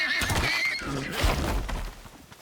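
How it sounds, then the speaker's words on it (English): Horse-like creatures in the survival game ICARUS neigh and whinny, several high shrill calls rising and falling close by, with a heavy thud and some hoof-like clatter mixed in. "Yep, there's the horse creatures"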